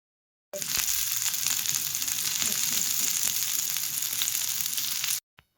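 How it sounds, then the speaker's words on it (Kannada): Paneer tikka pieces fry in oil on a tawa over a low flame with a close, loud, continuous crackling sizzle, which stops abruptly at the end. "ಹಾಗೆ ಅದನ್ನು ಚೆನ್ನಾಗಿ ರೋಸ್ಟ್ ಮಾಡಿಕೊಂಡು ಫ್ರೈ ಮಾಡಿ."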